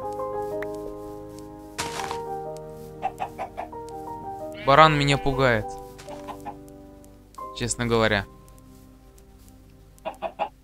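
Chickens in the video game Minecraft, on a survival farm in version 1.16.4, cluck in short repeated bursts at moderate volume, interleaved with someone speaking several times.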